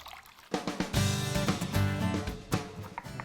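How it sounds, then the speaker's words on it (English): Salted cabbage dipped and swished in fresh water during kimchi preparation in a home kitchen, giving a run of close splashing and sloshing liquid sounds with small clatters, starting after a brief quiet moment. "Just dip it in fresh water."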